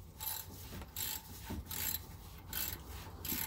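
Oil filter on a 2015 Subaru Impreza being tightened by hand, a series of short rubbing, ratcheting scrapes in bursts, close and fairly quiet.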